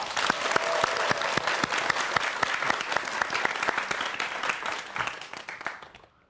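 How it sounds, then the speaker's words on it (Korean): A large audience at a science lecture applauds with dense, steady clapping that holds strong for several seconds and then fades out. "김범준 교수님의 강연, 여러분 박수로 함께하겠습니다"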